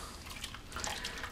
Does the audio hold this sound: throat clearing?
no